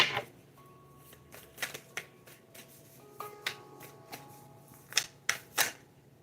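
Oracle cards from a Wild Offering deck being shuffled by hand, a quiet run of soft riffling and rubbing with a few sharper snaps and flicks near the end, close and alone without any voice.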